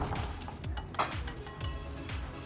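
Soy sauce, sesame oil, sugar and grated ginger being stirred together in a bowl, with soft repeated clinks and scrapes of a utensil against the dish in a steady rhythm, close and fairly quiet.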